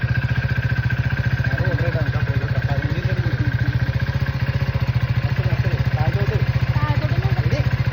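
A motorcycle engine chugging loudly and steadily at close range in fast, even pulses, with voices talking over it.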